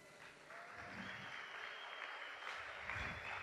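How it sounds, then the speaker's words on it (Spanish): A church congregation applauds a woman during a sermon, a dense steady wash of many hands clapping that holds at an even level throughout, with faint murmuring underneath. "Un aplauso para Betty"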